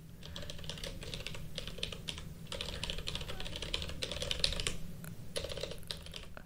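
Quick bursts of clattering keystrokes on a computer keyboard, with short pauses between runs, close and clear, with no voices.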